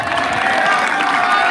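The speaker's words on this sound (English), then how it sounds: "Let's give Mr. Cusano a round of applause" A large crowd at a high school football state championship ceremony claps and cheers loudly in a dense, continuous roar of applause and shouting.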